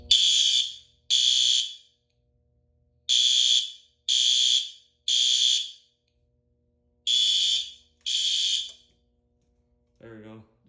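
A Notifier SFP-1024 school fire alarm system sounds in a drill: seven loud, steady electronic tone bursts of about a second each, in uneven pairs and groups, followed at the end by a brief mechanical noise.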